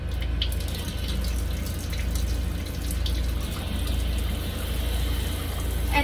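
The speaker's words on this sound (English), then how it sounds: "I'm gonna grab some paper towel to turn on the water." Water runs steadily from a tap into a sink for hand washing in a sterile hazardous compounding setting, a loud continuous close splash throughout with no talk.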